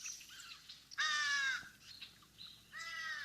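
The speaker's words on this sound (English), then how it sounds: "that's a young bird, juvenile," A juvenile crow gives a few nasal, fish-crow-like caws, one loud and close followed by fainter repeats, with no other sounds around them.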